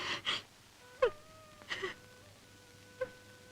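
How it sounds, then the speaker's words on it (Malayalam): A mother cries and wails in short, quavering bursts separated by pauses, fairly faint against a quiet indoor background. "ഉമ്മ കരയുന്നു"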